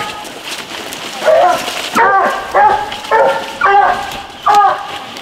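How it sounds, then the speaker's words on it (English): Hunting dogs bay steadily at a tree during a youth championship coonhound hunt in Louisiana, a rhythmic series of loud, drawn-out barks and bawls from several hounds, close by, with some background voices. "All dogs are treed in."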